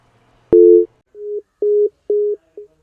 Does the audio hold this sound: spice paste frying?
no